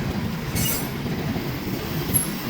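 A Norfolk Southern train rolls past on the rails in Fostoria, Ohio, a continuous low rumble of wheels with brief high-pitched squeals, near and moderately loud.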